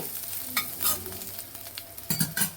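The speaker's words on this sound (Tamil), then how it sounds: "நல்லா இந்த எண்ணெயிலே கொஞ்சம் நல்லா வதக்கி விடுங்க" Onions sauté in oil in a pan with a soft, close sizzle. A utensil scrapes and stirs in irregular bursts throughout, and a few sharper clicks come near the end.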